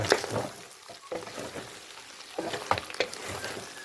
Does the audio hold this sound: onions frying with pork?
yes